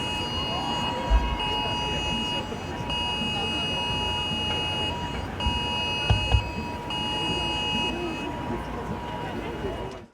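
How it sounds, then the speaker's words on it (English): A UK emergency alert test sounds on phones as a loud, steady electronic tone lasting about ten seconds with a few brief breaks, over faint outdoor background noise. "So that's the emergency alert, which sounded about 20 seconds before 3 p.m."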